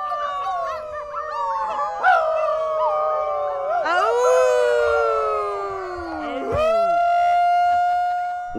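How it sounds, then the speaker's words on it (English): Outdoor crowd howling together in a pandemic stress-relief event, many voices rising and falling in overlapping wavering howls, loud and close, swelling and fading across the whole stretch like a chorus of wolves. "Some howl to let out stress from the pandemic."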